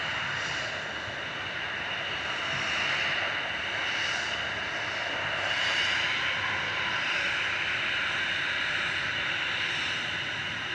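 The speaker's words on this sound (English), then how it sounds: "Lining up in front of us is one of Jet2's 737-800s, GDRTH." Jet2 Boeing 737-800 lining up and taking off at Manchester Airport, a steady, moderately distant engine roar with gentle swells in intensity throughout.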